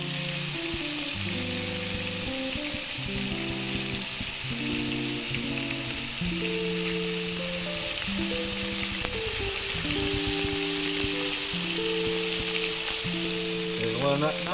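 Yellow perch fillets sizzle steadily in a frying pan on a stovetop, a loud continuous crackle running throughout, with music playing over it.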